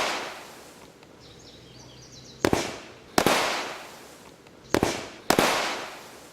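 A firework set off without its mortar tube pops and bursts in four loud sharp cracks, arranged as two pairs, each blast followed by a fading crackling hiss.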